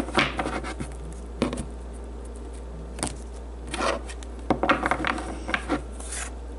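Tarot cards shuffled by hand close to a camera: soft, irregular rubbing and riffling bursts with occasional sharper card flicks, close and fairly quiet, without talk.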